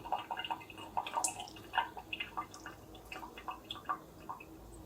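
Water dripping and trickling as potted houseplants are watered and fertilized at a sink, with a moss pole dampened too; irregular close drips and small splashes patter throughout without pause.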